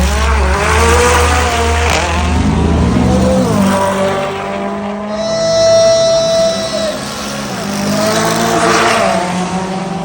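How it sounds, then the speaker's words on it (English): A 650 hp VW Polo with a 2.0 TSI engine accelerates hard, the engine note climbing loud and close through rising revs with gear changes and a short tire squeal between pulls. "Shadow accelerates like a stabbed rat"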